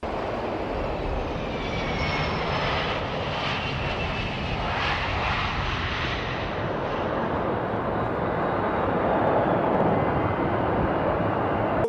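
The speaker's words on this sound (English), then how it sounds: "seeing footage of planes either flying off or landing" A fixed-wing airplane roars loud and close, a broad sustained engine rumble that swells slightly toward the end as it flies off or lands, with no talking.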